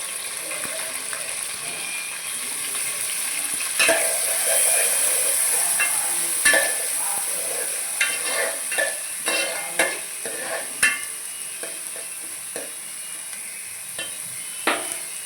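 Onions go into a pan for goat head curry and are stir-fried, with a steady sizzle under repeated scraping strokes of a spatula, close and fairly loud, with no talking.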